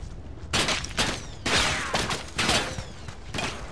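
Rifle fire rings out in Ghost Recon Advanced Warfighter, with several sharp shots and short volleys in quick succession, loud and close, echoing between bursts.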